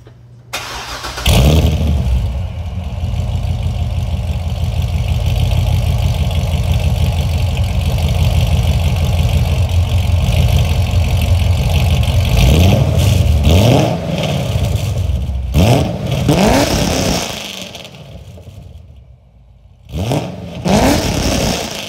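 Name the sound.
supercharged 2009 Chevrolet Corvette C6 engine starting and revving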